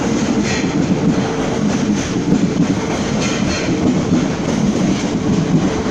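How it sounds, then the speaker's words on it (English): A train passing close by with a loud, continuous rumble and rhythmic clickety-clack of wheels on rails, steady throughout and with no voices. "I'll let the train pass by."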